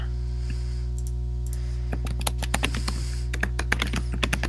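Noisy computer keyboard clatters in quick bursts of close, sharp key clicks over a low steady electrical hum, sparse at first then dense typing, with no talking.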